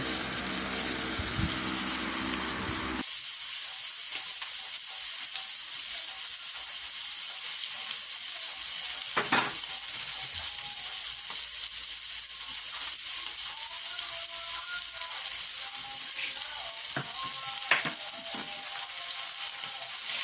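Chicken liver and gizzard frying in a pan in their own fat, with a steady crackling sizzle and occasional sharp clicks of stirring, close and even.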